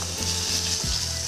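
Garlic sizzles in hot oil in a pan, a loud, steady crackling hiss with a couple of soft stirring scrapes and no voices.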